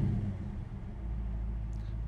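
A 1974 Plymouth Duster idles just after starting, with a steady low engine rumble throughout, even and moderately quiet, heard close by with no talking.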